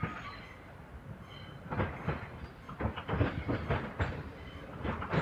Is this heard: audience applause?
no